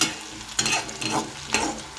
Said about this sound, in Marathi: कांदा टोमॅटो आता भाजला आहे